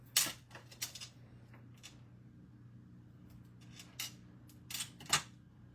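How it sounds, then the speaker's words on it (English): Several quick snipping and clicking sounds as craft dimensional foam pads are cut in half, sparse irregular bursts close by over a quiet background. "I'm just going to cut the dimensionals in half"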